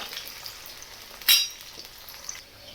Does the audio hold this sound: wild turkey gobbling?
no